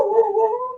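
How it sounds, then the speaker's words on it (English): A big 75-pound dog gives a single short howl, a steady, wavering tonal cry, close and clear with no other sound. "Sounds like a big dog."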